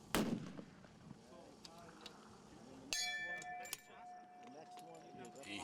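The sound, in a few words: long-range rifle shot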